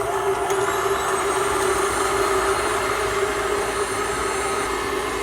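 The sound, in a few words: electric mixer whipping egg whites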